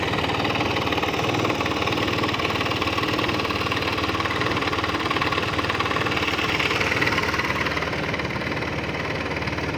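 A 2006 Mondial 150cc motorcycle engine idles steadily up close, a continuous mechanical rumble with a fast, even ticking throughout and no voices.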